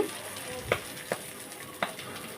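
Malabar spinach leaves wrapped around dried chepa fish paturi fry gently in hot oil, a soft steady sizzle close by with three small sharp pops spaced apart.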